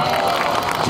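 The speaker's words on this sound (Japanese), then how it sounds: "その鳴り止まない拍手" A street-performance crowd in Yokohama keeps up dense, steady applause mixed with cheering, loud and continuous throughout the short stretch.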